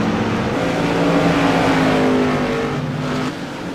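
Light modified race cars lap Martinsville Speedway, a loud continuous engine roar from a pack of cars holding steady and then easing slightly as they head into a turn, no speech.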